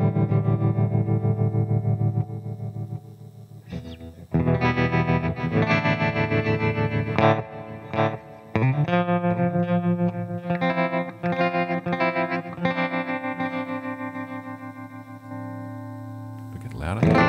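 Electric guitar run through a Boss GT-1000 effects processor into a tube amplifier, sustained distorted chords and single notes with chorus and echo, loud and near, with a few short breaks between phrases.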